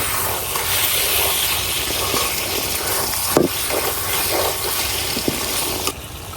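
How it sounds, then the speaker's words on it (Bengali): Dried chili powder, bay leaf and whole garam masala hiss loudly in hot oil in a pan for a chicken biryani. The steady, close sizzle is broken by a few sharp pops and crackles. "দিয়ে দিতেছি অল্প শুকনো মরিচের গুঁড়া, এখন দিয়ে দিতেছি তেজপাতা আর কিছু আস্ত গরম মশলা।"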